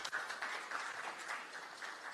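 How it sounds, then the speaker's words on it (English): An audience at the Ayute Challenge Uganda grand finale claps for a contestant, a faint, distant spatter of many hands that stays quiet and even for a couple of seconds. "Let's clap for Mr. Segawa."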